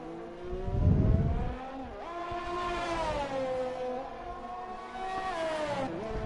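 A Formula 1 race car from a video game running a flying lap at the Brazil circuit, its high engine whine steady and rising through gear changes, with a louder burst early on, heard alone with no talk.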